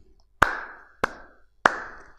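Three sharp hand claps ring out one by one at an even, unhurried pace, each crisp and close with a short decay into quiet.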